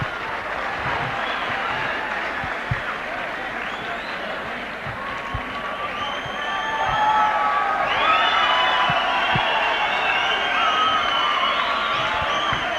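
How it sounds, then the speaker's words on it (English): A kickboxing arena crowd erupts into a standing ovation after a super heavyweight bout, with dense continuous cheering, whoops and applause that swell louder midway and stay sustained throughout. "A standing ovation from the crowd."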